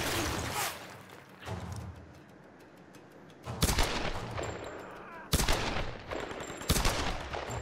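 Gunfire in Tomb Raider (2013) comes in loud bursts of rapid shots, separated by quieter stretches of rumbling background, with the heaviest volleys toward the end.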